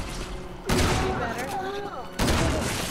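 Gunfire in the Resident Evil 6 video game during Leon's campaign, a burst of rapid, loud shots that cuts in and out in two sustained volleys, with a player's voice talking over it.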